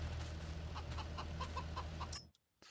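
Chickens cluck in Farming Simulator 22, a busy layer of soft repeated clucks and calls over a steady low hum from the chicken pen, cutting off abruptly toward the end.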